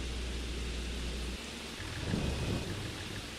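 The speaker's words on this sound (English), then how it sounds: "is it starting to rain?" Game rain and thunder on the Judith Plains map in a farming video game: a steady, dense hiss of rainfall with a low rumble of thunder swelling partway through, no voices present.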